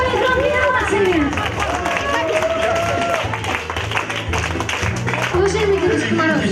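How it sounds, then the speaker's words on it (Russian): An audience at a festive event applauding Ded Moroz: a sustained wash of crowd clapping and hubbub, with a loud voice speaking over it throughout. "Давайте дружно ему поаплодируем еще раз самыми громкими овациями!"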